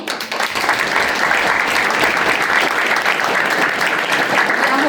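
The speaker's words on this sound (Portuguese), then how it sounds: "Vou pedir para vocês também uma salva de palmas para elas." A seated audience at a Black community commemorative panel in São Paulo breaks into steady, dense applause that holds at an even, loud level from start to finish, with no voices standing out above it.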